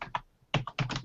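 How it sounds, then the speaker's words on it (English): Close-up clicks of typing on a computer keyboard come in quick clustered bursts, with a brief pause between the groups of keystrokes. "Now I'm hearing a little bit of typing feedback."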